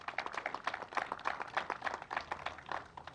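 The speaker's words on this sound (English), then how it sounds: "Let's give the Commissioner a round of applause." An audience claps for a state agriculture commissioner at a cider house gathering, with dense, moderately loud applause rippling steadily throughout without letting up.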